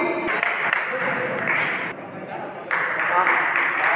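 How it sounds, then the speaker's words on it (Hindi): An audience at a Ram Navami celebration claps to welcome guests, a dense burst of applause that dips briefly and swells again, heard beneath an announcer's amplified voice. "और जोरदार ताली से स्वागत करेंगे।"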